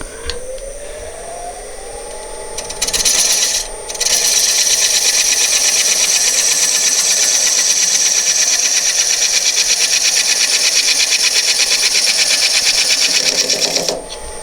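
A wood lathe spins a bowl being reshaped from a funnel form to a pedestal form. After a brief rise, a bright, steady high whine holds continuously for about ten seconds, then drops away abruptly.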